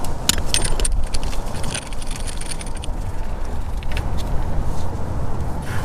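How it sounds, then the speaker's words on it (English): A regular ratchet spins a loosened pinion nut off a vehicle's differential during a pinion seal replacement, giving a steady run of close metallic clicking and jangling over a low background rumble, with no talking. "now that it's loose, we could transition to a regular ratchet and spin it off the rest of the way"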